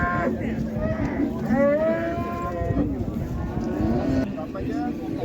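Cattle moo repeatedly at a livestock market in Qarshi, the long drawn-out calls rising over a busy crowd while people talk nearby throughout.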